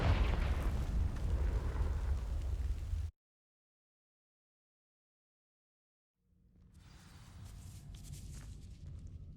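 A Confringo fire spell blasts dry vines in Hogwarts Legacy, a loud rumbling burst that cuts to sudden silence, then a quieter crackling, hissing ambience fades back in.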